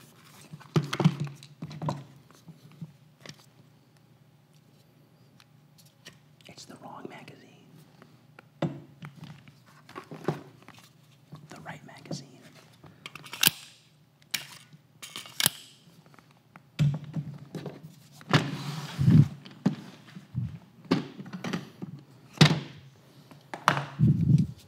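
9mm and 5.56 cartridges being pressed into pistol and rifle magazines, heard as scattered close clicks, taps and metallic snaps in uneven bursts with quiet pauses between, no speech.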